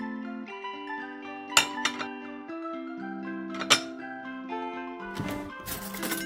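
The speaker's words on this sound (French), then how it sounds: "Maintenant, chargeons la vaisselle." Ceramic dishes and glasses clink in a cartoon as they are loaded, a few bright, brief clinks that sit under a louder, bouncy music score.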